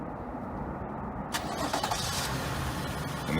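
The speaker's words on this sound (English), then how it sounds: "And the car will start." A 2014-2019 Toyota Highlander push-to-start engine turning over by remote start, a brief crank followed by the engine catching and settling into a steady idle, heard close by.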